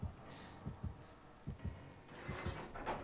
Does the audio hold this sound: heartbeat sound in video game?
yes